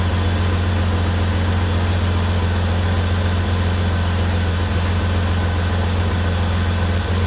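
A 2004 Jeep engine idles with a steady, deep rumble and a raspy exhaust drone from a loose exhaust near the catalytic converters, loud and unchanging throughout, with no one talking.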